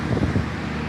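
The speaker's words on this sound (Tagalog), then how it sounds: "lakas na hangin, narinig ba ako?" Strong wind buffets the microphone in a dense, rumbling roar with irregular low gusts throughout, outdoors on a cycling ride.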